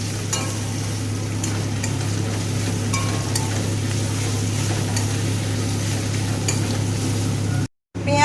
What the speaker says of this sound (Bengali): দিয়ে একই সাথে মশলার সাথে কষিয়ে নেব, ভেজে নেব।